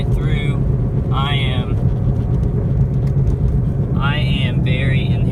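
A car passes by outdoors as a continuous low road rumble, fairly loud and close, with high chirping sounds breaking in over it at intervals.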